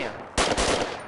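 A short, sharp burst of rapid video game gunfire, a few close cracking shots fired in quick succession after a brief lull.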